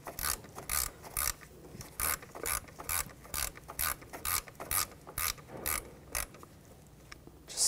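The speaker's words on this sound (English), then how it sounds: "We'll tighten this bolt down." Ratchet tightening the MAP sensor bolt on a 2013-2019 Ford Escape, a close series of quick clicking bursts in uneven rhythm, with short pauses between strokes, and no talking.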